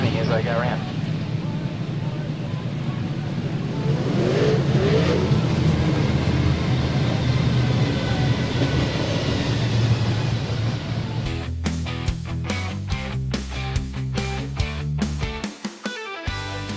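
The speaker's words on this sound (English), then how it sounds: "Straight cut gears, and you can certainly hear whining as they go around." V8 dirt modified race cars roar steadily around a speedway track, a dense, continuous engine drone that later gives way to other sounds, with voices talking over it.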